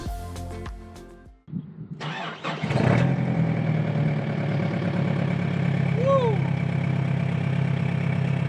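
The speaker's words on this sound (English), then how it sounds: "it's very important to warm your engine up the next day" A car engine on the Nullarbor cranks and catches, then settles into a steady, fairly loud idle as it warms up in cold weather, running on alone for several seconds.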